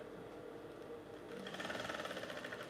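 An electric sewing machine stitches fabric for a simple beginner's top, running on low power at first, then speeding into a steady, fast mechanical whir that stays close and alone with no talk.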